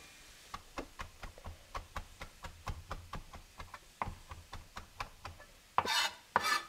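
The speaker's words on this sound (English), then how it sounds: "That's how I chop up my parsley." Fresh parsley is chopped with a knife on a board in a quick, steady run of crisp taps, roughly three per second, close and clear, ending with a couple of louder rustling scrapes.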